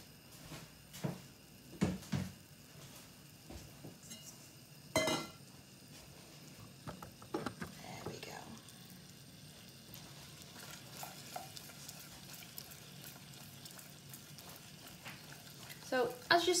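Caramel toffee mixture stirred in a pan, a faint sizzle with scattered scrapes and knocks of the spoon and pan, under a person explaining as they work.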